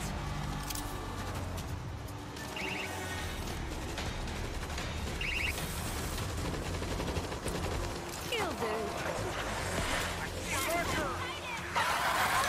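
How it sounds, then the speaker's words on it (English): An automatic turret firing in the zombie shooter World War Z, producing continuous rattling machine-gun fire amid game noise, with a voice talking over it. "Meet auto turret!"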